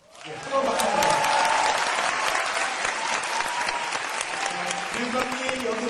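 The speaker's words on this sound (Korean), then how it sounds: "네, 뜨거운 박수" At a talk concert, a large crowd breaks into loud, sustained applause to welcome the education superintendent, the clapping swelling quickly and holding steady while a voice talks over it.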